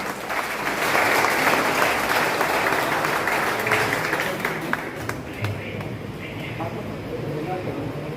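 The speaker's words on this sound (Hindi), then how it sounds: "आप सब लोग ताली बजा के बता" An audience in the Mawana tehsil assembly hall applauds at a Valmiki Chetna conference on Kranti Diwas, a steady, fairly loud clapping that carries on for several seconds with voices audible underneath.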